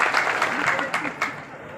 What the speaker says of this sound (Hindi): जोरदार तालियों से आप लोग स्वागत करें